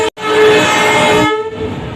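A passing freight train near Kolaghat sounds its horn: one loud, close, sustained blast lasting over a second that cuts off abruptly, leaving a lower rumble behind.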